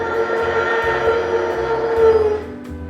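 An MTH model steam engine train runs close by on its track, a loud, steady mechanical rumble with a rhythmic chuffing rattle and a tonal whine riding on top.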